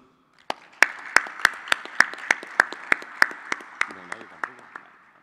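Applause for the winning organisation Simeón de Chile at an IPv6 challenge prize ceremony: a crowd claps steadily for about five seconds, with loud sharp individual claps standing out over the wash and a faint voice near the end.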